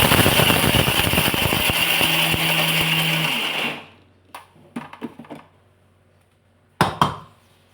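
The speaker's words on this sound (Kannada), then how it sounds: "ಇವಾಗ ಗೋಡಂಬಿನೂ ಕೂಡ ಹಾಕ್ಬಿಟ್ಟು ಇದು ಕೂಡ ತರಿಯಾಗಿ ರುಬ್ಕೊಳ್ಳೋಣ." A kitchen mixer grinder coarsely grinding cashews roars loudly for about four seconds, then stops, followed by a few faint knocks and rattles of the jar.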